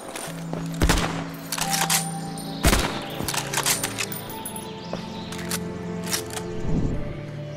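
Hunting rifle gunfire in Fallout 4 with a modded weapon set: several sharp, loud shots at irregular intervals, each a broadband crack with a short tail, over a steady low game ambience.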